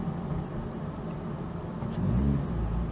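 Car engine with a manual transmission, running steadily and close by, then rising in a louder, deeper surge near the end as the driver shifts up through the gears for cruising.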